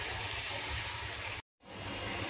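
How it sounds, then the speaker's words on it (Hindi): Water is poured into a pan of vegetable curry on the stove, a soft, steady splashing pour that cuts out briefly for a moment and then resumes, quiet and close. "जितनी पतली सब्जी हमको रखनी है हम अपना पानी डालना है इसमें।"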